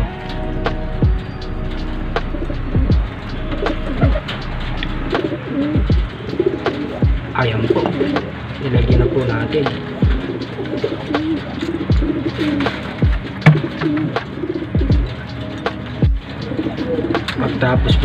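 Pigeons coo repeatedly and close by, soft throaty calls recurring throughout amid wing flutters and clatter, while a person speaks Filipino over them during feeding with garlic-and-honey water.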